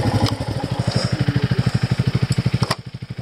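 A motorcycle engine idles with a steady, rapid low thump while greenlaning on a North Yorkshire lane, then the thumping slows and stops as the bike stalls. It is close and loud and heard alone.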